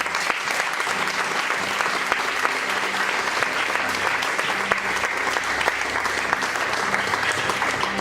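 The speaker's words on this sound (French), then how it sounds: "si on peut applaudir pour lui" Church audience applauding for an evangelist, a steady dense wash of clapping that holds loud and close throughout with no pause.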